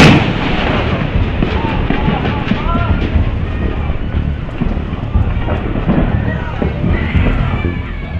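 Ammunition explodes inside a burning ammunition warehouse in Ciangsana, a loud dense barrage of rapid booms and cracks rolling on continuously with wind rumble, voices faintly audible beneath.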